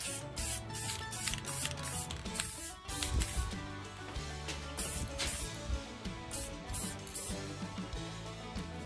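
Short hissing bursts of spray paint dust a coat onto armor pieces, repeated puffs in an uneven rhythm over a low, steady background hum.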